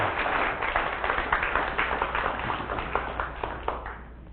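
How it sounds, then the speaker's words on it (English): Audience applause for a speaker at a bike-safety talk night, a steady patter of many hands clapping at moderate volume, sounding somewhat distant and lasting the whole stretch. "Let's give him a big round of applause."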